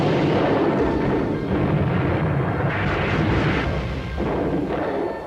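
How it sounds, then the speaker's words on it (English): British guns bombarding forts at Canton: a continuous dense roar of artillery fire and rumbling blasts, loud and sustained, with heavy booms overlapping throughout. "In Canton, British guns pounded local forts."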